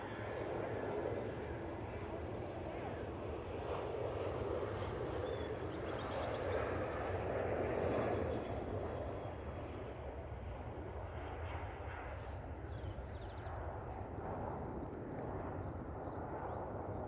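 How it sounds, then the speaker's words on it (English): Boeing 737-800 jet accelerating on its takeoff roll at Manchester Airport, a steady broad engine roar heard from a distance that swells slightly and holds, with no talk over it. "737-800 now on the roll."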